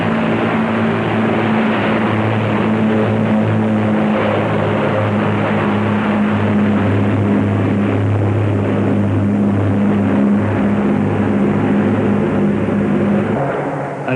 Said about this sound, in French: Il fallait 12 moteurs de 600 chevaux pour arriver à décoller péniblement